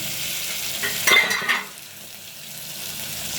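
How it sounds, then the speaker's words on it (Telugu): Brinjal curry frying in a pan as tomato goes in, a soft background sizzle with a brief louder burst of hissing and stirring in the middle that then settles back to a quiet fry. "ఇది కూడా ఒక టూ మినిట్స్ అయితే వేగాలి ఇందులోనే టమాటో కూడా వేసేస్తున్నాం"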